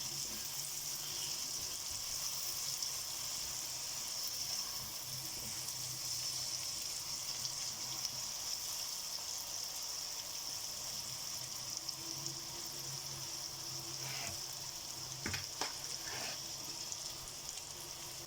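Onion and raisins sizzle steadily in a pot as they caramelize, a continuous soft frying hiss at moderate distance with a few small pops and clinks near the end.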